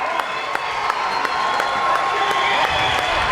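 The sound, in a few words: basketball crowd cheering after a defensive block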